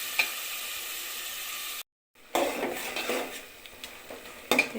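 Meat sautéing in a pan for biryani with a spoon stirring against the metal, steady sizzle broken by a brief pause, then scraping clinks and a couple of sharp knocks, close up with no talking.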